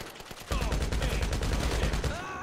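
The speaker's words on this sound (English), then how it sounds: "Oh my, I just got shot from behind." Automatic gunfire in GTA V, submachine guns and rifles in a street firefight: a dense, loud, continuous barrage erupts after a quieter start and keeps rattling to the end.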